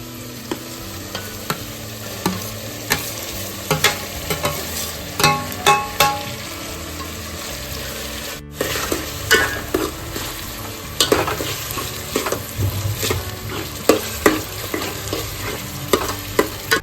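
Tomatoes dropped into a hot pan while cooking dal baati, sizzling and frying steadily as a spoon stirs, with repeated scraping clatters against the pan in an irregular rhythm, close and fairly loud.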